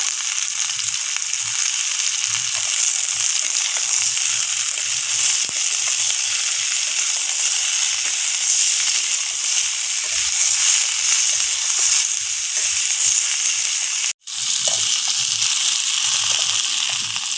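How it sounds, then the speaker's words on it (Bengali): Mixed vegetables, including green beans, frying in a pan, a loud continuous sizzling hiss that runs for a long stretch, briefly cuts out once, then resumes just as strong. "সবজিগুলো আমার ভাজা হয়ে গেছে"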